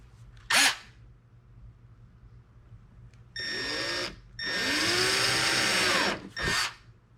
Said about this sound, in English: I would definitely recommend you use a center drill to get the hole started.